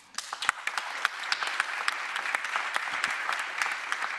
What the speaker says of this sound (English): perhaps you can hear the applause coming from Brussels